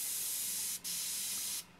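A Badger Renegade Krome airbrush sprays a steady, airy hiss laying down fine smoke haze, briefly cutting out twice as the trigger is released, close and with no talk.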